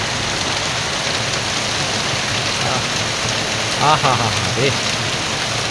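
A heavy downpour in Senbag, Noakhali, roars as a dense, steady wash of rain drumming on surfaces, while a man briefly exclaims in delight partway through.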